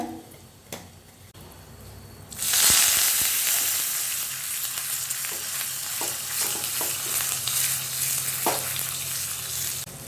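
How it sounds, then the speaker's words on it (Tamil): Urad dal, cumin, fenugreek and asafoetida hit hot oil as a sambar tempering, bursting into a loud, steady sizzle that continues close up, with a few stirring clinks. "இதை தாளித்து சாம்பாரில் கொட்டிடலாங்க"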